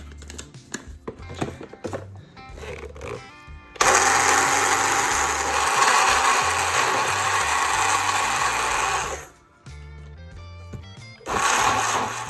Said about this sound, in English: And now we'll blitz this up, and that's a sauce.